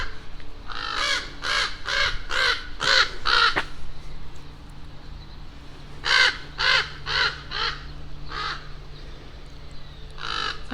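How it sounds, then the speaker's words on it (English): Crows cawing loudly in Haddonfield, a rapid run of harsh caws followed by a second burst after a short pause, then a few scattered calls, close and prominent over faint background hum. "I don't remember the birds of Haddonfield being so loud."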